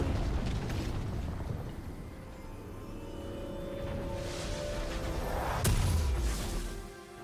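A League of Legends turret collapses in a loud, dense explosion over layered game effects, building through rumbling debris, then a sharp burst near the end with a deep booming tail.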